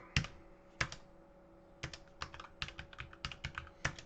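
Typing C# code on a computer keyboard, with irregular bursts of clear key clicks and short pauses between them, close and moderately loud with no talking.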